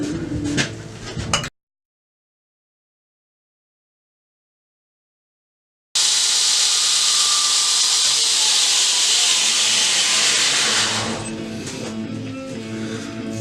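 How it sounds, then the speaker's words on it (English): A knife blade made from a rasp being rough-ground on both bevels: after a short pause, a loud, continuous hissing grind runs close up, easing slightly near the end. "I'm going to grind the bevels in, both sides, just a rough grind"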